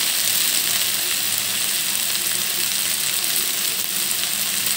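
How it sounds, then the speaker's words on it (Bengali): Salt is mixed into taro stolons (lata) frying in a pan for a dried bhola fish shutki chorchori. A dense, loud, continuous sizzle runs unbroken throughout, close up, with no voices. "লবণটা দিয়ে ভালো করে লতার সঙ্গে মিশিয়ে নেব।"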